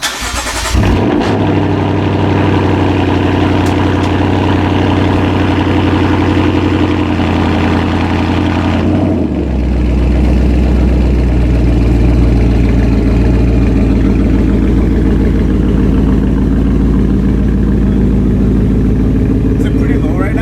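A Lexus RC F with a full GT house Meister shaft exhaust, mid pipe and axle-back, valves open, fires up from cold with a loud flare. It then settles into a steady, deep, rumbling idle that continues without break.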